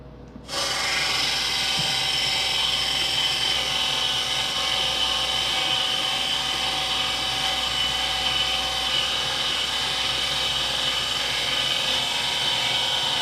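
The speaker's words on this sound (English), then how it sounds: "Now I'm going to load it up into the stuffer. We'll load the bung up on the horn, and we'll stuff it." A sausage stuffer forces ventricina salami meat into a beef bung with a loud, steady, motor-like whir that starts abruptly and holds unbroken throughout.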